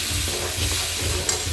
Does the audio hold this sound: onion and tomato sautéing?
yes